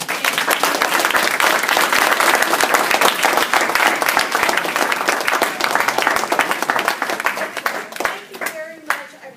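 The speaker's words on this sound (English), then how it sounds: "Let's all give a round of applause for both." Enthusiastic applause from a class audience after a guest speaker's talk, a dense wash of clapping that stays loud for several seconds and then thins out and fades near the end.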